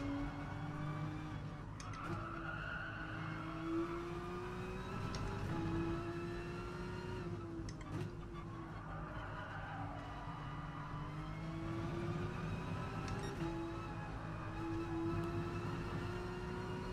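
Porsche 911 RSR racing on a wet track in the GT Sport video game: a steady whining engine note rises and falls through gear shifts, with tire squeal and skidding noises, quiet and without talk.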